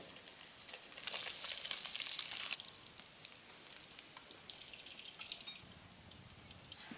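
Fish (shol) frying in hot oil after one side is flipped, a faint steady sizzle with a louder hissing burst early on, heard alone without speech.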